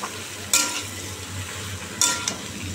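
Bottle gourd being fried in oil in a pan, with a steady sizzle and two louder scraping stirs, one early and one later, close by with no talk.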